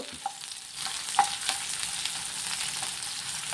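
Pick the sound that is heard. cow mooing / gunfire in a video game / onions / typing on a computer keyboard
onions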